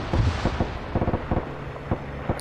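A flak anti-aircraft gun firing in a World War II game, a regular series of deep, booming thuds about every quarter second, heavy and somewhat distant, with no talking.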